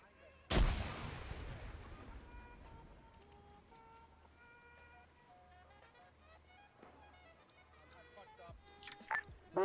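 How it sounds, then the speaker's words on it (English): Mortars or rockets go off in an Arma 3 World War II assault on a factory: one sharp, loud blast near the start, then scattered fainter bangs and battle noise, with game sounds continuing underneath. "We think it's just some mortars or rockets going off."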